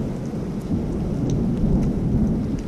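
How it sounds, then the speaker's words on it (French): Deep thunder rumbles on and on through a storm after lightning strikes, with steady rain falling throughout and no voices. "c'est vrai qu'il y a eu quelques impacts de foudre intéressants"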